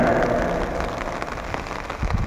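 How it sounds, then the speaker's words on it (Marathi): Steady rain falls across open fields, a dense continuous patter of drops on wet ground, fairly close and alone with no voices. "बघू शकता तुम्ही कशा प्रकारे मित्रांनो पाऊस चालू आहे"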